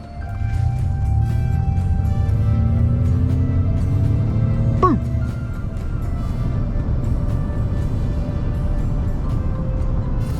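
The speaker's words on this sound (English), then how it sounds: "Now we're gonna see what my 0 to 60 time is in real life." A 2022 Ford F-150 Lightning Platinum electric pickup accelerating hard from 0 to 60 mph, a rising whine of the electric motor over heavy road and wind roar inside the cabin, loud and continuous.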